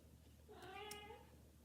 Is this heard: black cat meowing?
yes